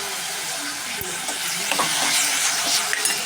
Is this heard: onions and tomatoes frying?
yes